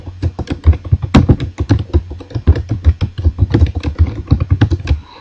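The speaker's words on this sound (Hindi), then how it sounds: "यहाँ पर सिर्फ मैं 1 या 2 लाइनें टाइप करता हूँ" Fingers type steadily on a computer keyboard while entering a line of text in MS Word, a close, loud run of rapid key clicks and thumps with no pauses.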